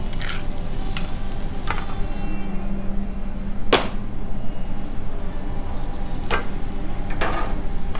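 Onion frying with ginger, garlic and green chili paste on a tawa for spicy chicken, a steady broadband sizzle throughout with a few sharp clicks of a spoon stirring, loud and close, no talking.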